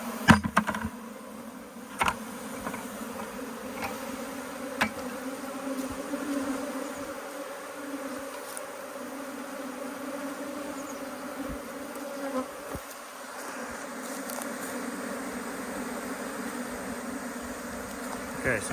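A swarm of honeybees shaken into a box hums and buzzes steadily throughout as the bees fan, a dense droning layer with occasional louder thumps and knocks up close.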